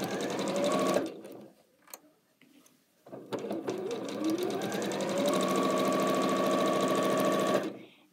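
A sewing machine stitches fabric in rapid, whirring bursts, running briefly, pausing for a couple of seconds, then stitching steadily for several seconds, loud and close.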